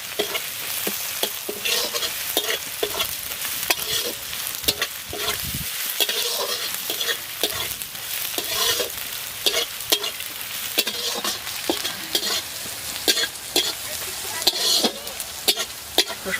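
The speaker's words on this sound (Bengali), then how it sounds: "এবার রসুনটা দিয়ে একটু নাড়াচাড়া করবো।" Garlic paste is stirred in a frying pan over a steady sizzle, with frequent spatula scrapes and knocks at an irregular, busy pace and close to the mic.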